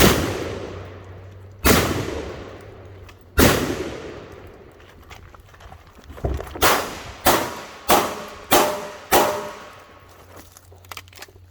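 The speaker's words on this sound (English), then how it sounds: "Suppressive fire." Suppressive gunfire at a shooting workshop: two widely spaced loud shots, then a rapid string of six evenly paced reports, each sharp crack trailing into a ringing outdoor echo.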